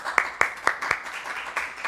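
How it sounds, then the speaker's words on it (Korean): Several sharp claps ring out, followed by a light, scattered patter of applause from a small forum audience. "큰 박수로 맞아주시기 바랍니다."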